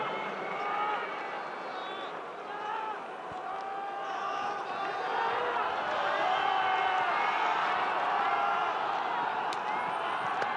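A large crowd at the Tokyo Dome cheers and claps through Keiji Muto's final wrestling entrance, a sustained roar with whoops, while a commentator talks over it throughout.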